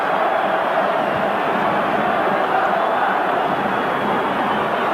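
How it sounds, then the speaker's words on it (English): Football stadium crowd at the Stadio Artemio Franchi roaring after a Fiorentina goal against Lazio in a 1990s Serie A match, a dense, sustained wall of cheering and chanting from a large crowd, loud and unbroken. "And the crowd are on their feet here in the Stadio Artemio"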